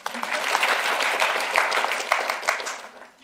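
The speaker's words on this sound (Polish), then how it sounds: "nagroda była, więc jeszcze raz brawa" A studio audience at a Senate discussion program gives a short burst of applause for an award, many hands clapping at close range and tapering off toward the end.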